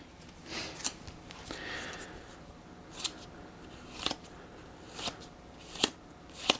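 Deck of game cards for a Star Wars Outer Rim board game being shuffled by hand, a series of crisp riffling bursts recurring at irregular intervals, close and clear with no talking.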